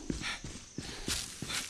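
Horse hooves clip-clop at a walking pace in the video game Far Cry 6, a series of evenly spaced, fairly soft hoof strikes close by, with no talk over them.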